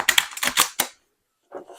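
A deck of Weaver Tarot cards is shuffled in a quick burst of crisp, papery riffles, fairly close and loud, followed by a pause and a softer brief rustle as the cards settle.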